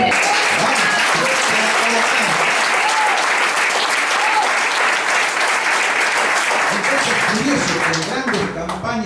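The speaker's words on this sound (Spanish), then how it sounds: "Aquellos que están entendiendo, dan un aplauso al Señor." A church congregation applauds during a Spanish-language sermon, giving a dense, steady wash of many hands clapping that stays loud for about nine seconds before easing slightly at the end.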